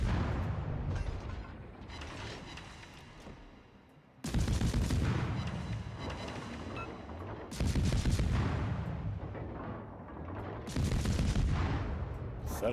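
Warship guns fire in the World of Warships video game: three heavy salvos roll out in loud bursts several seconds apart, each booming and fading with mechanical rumble.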